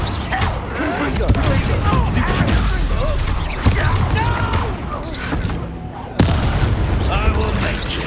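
Repeated booming spell blasts from Confringo curses in Hogwarts Legacy on PC, dense and continuous with sharp bursts near 3.7 and 6.2 seconds, mixed with game voices.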